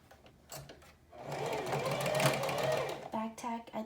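A sewing machine stitches a pleated fabric mask, its motor whirring steadily for a couple of seconds before short stop-start runs, with a person talking over it.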